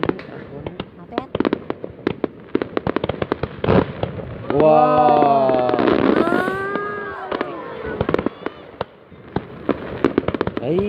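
New Year's Eve fireworks explode in a dense, close run of sharp bangs and crackles, with a rising whistling burst in the middle, while people react and chat over them.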